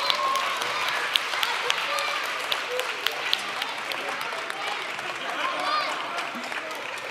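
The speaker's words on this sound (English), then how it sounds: "Give him a big round of applause" At a science festival show in Nova Gorica, an audience gives a steady round of applause, dense clapping with a few sharper individual claps and a voice briefly heard over it.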